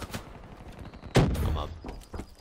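Gunfire in the Black Ops 3 video game: one loud sharp shot followed by a rumbling tail and a couple of fainter pops, with low talk nearby.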